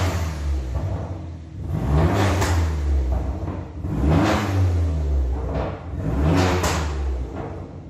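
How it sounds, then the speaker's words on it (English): A Corsa engine revved in repeated bursts as the accelerator is blipped, three loud swelling rises in pitch and volume with deep rumbling between them, close by and without talk. "All he's doing there is blipping the accelerator for that to happen."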